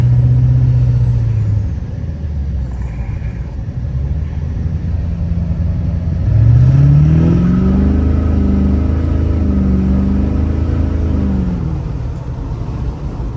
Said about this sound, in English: But I can give you guys full throttle pull real quick.